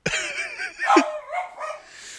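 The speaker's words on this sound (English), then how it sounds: "I'm sorry if you hear dogs in the background" A few yelping, whiny barks from a dog nearby, short and high-pitched, in quick succession.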